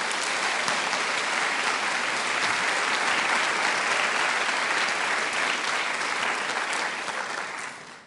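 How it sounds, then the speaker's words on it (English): Loud, dense audience applause at a school prize-giving ceremony after a performance by a group of girls, sustained and even from a large crowd before tapering off in the final second. "Let's give them one more round of applause."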